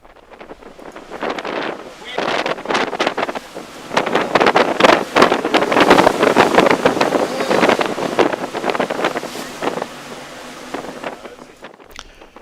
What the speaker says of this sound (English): it was a windy day, and the waves were high